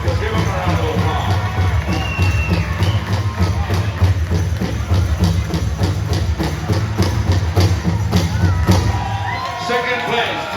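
Crowd applause and cheering for a third place winner at a powwow men's fancy dance special, a dense, steady wash of clapping and voices lasting throughout, loud and close.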